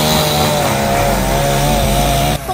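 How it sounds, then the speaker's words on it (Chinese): A chainsaw cuts through fallen roadside trees on a mountain road in Hualien during Typhoon Haikui, its loud, steady engine whine sustained close by for over two seconds before it stops abruptly. "警方跟工程人员拿着电锯把倒塌的路树锯断"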